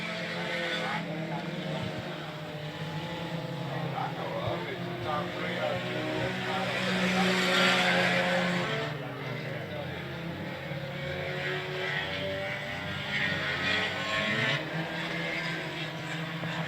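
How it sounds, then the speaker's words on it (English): Sport Compact race cars in a heat race at Cotton Bowl Speedway drone past at a distance, their engines swelling and fading beneath ongoing commentary. "they go by the slower cars in this heat race of the Sport Compacts"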